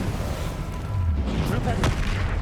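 The Confringo fire spell in the Hogwarts Legacy video game goes off with booming explosive bursts, a couple of sharp blasts cracking over a rumbling combat background.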